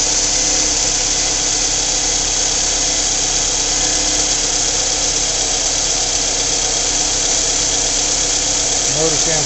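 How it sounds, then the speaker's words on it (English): A 2.4 liter engine in a 2009 Scion xB runs steadily at idle in a salvage yard, a continuous loud, even mechanical drone heard close up without a break. "The motor sounds real nice."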